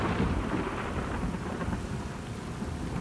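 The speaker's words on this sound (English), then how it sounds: "it's raining a lot." Heavy rain pours steadily in The Last of Us Part II, a dense, loud wash of downpour with deep rolling thunder rumbling beneath it throughout, no voices present.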